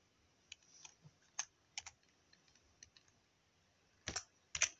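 Keys clicking on a Lenovo laptop keyboard, with a few scattered light taps and then two louder clustered bursts near the end, faint and close with no talking.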